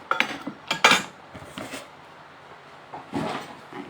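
Toy stainless steel cooking pots and pans clink and clatter as they are handled, giving several sharp metallic knocks close by, then softer rattles with short pauses between.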